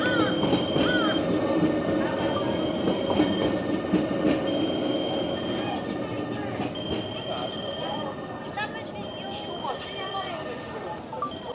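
A train rolls past with steady rumbling and clattering wheels and some high metallic squeal, while people talk over it.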